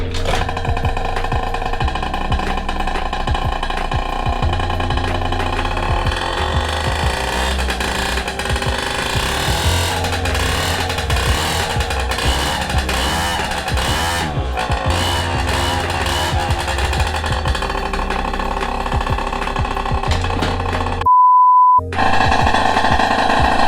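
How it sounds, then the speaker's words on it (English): A small 50cc motorcycle engine runs loud and steady with harsh, rattling exhaust, revving in bursts, then cuts out briefly near the end before a high beep. "Alright, so you can see the bike runs now."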